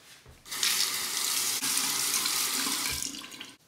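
Running tap water rinsing a Dovo shavette razor, a steady loud splashing rush lasting about three seconds, starting and stopping abruptly with no talk.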